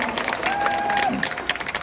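A crowd applauds at a political rally, a brief burst of dense, steady clapping with a thin whistle rising over it partway through.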